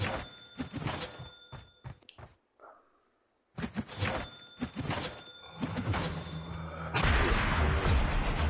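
A zombie blows up in the Zombies mode of Call of Duty Mobile. Sharp blasts and thuds break up game noise, then a short near-silence, then more clattering game effects with no talking.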